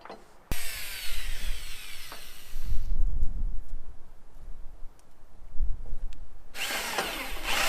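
A power drill whirs into wood in bursts while installing flush mount trailer anchors, high-pitched spinning with grinding and a pause between runs, close by and loud.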